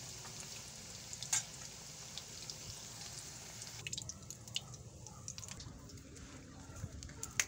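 An eggplant omelette with sardines fries in a pan, giving a steady low sizzle with scattered pops and crackles as someone talks softly nearby.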